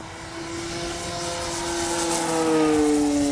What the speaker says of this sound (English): full speed with the wind